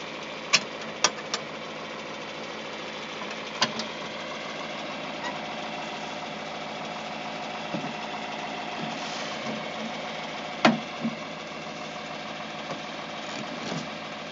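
An old gear-driven corn planter, chain and transmission driven, runs steadily across a field, giving a continuous mechanical drone with occasional sharp clicks and clanks.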